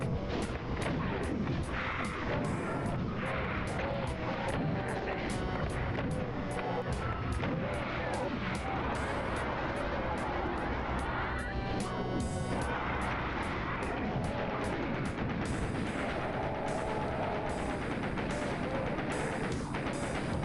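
Shotgun firing in DOOM II, heavy booming blasts repeating in a fast, regular rhythm over a dense backdrop of game noise and chaotic combat sounds.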